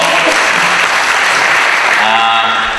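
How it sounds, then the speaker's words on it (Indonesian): A loud, dense burst of audience clapping fills the room at a law faculty session as a guest speaker is welcomed, sustained and close for a few seconds before beginning to fade. "Tepuk tangan dong."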